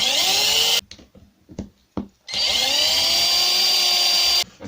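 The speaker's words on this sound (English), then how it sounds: "If you use a power tool, impact driver, don't use it to do them up," An impact driver undoing screws on an RC car differential whirs loudly in two long bursts with short choppy pulses between them, close by, no talking.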